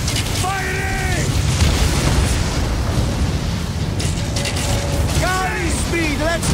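Ship cannons firing in Assassin's Creed Origins, heard as a dense, continuous booming rumble under constant battle noise, with shouted crew commands breaking through at the start and near the end.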